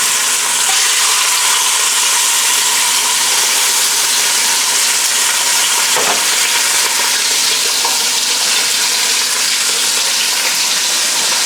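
Pork slices sear in a thin layer of canola oil for pork adobo, giving a steady, dense sizzle and crackle throughout with a brief sharper pop partway through.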